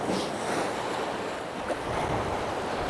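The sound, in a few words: wind and waves at a rocky sea shore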